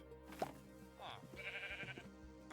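Sheep bleating in the blocky survival game Minecraft, a few short game-style bleats against soft background music, with a brief chopping-like tap early on.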